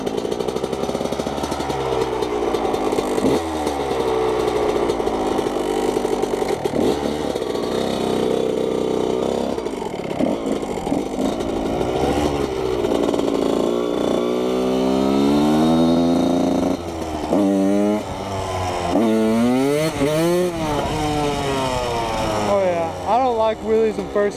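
A Yamaha YZ125 two-stroke dirt bike engine revs hard while being ridden, rising and falling in pitch with repeated throttle bursts and gear changes, loud and close throughout with a voice talking over it at times.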